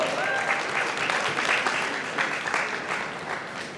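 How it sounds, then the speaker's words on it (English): Audience at a Social Media Week panel event applauding loudly and continuously, a dense burst of clapping that tapers slightly toward the end. "Please welcome them with a round of applause."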